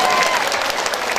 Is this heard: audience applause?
yes